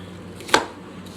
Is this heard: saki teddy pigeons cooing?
no